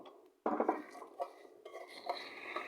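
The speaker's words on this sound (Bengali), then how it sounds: "এভাবে একটু একটু করে নেড়ে ভেজে নেব।" Spices stirred and dry-roasted together in a pan for a sweet-sour raw mango chutney, giving a run of close metallic scrapes and clinks that start abruptly and continue unevenly without talk.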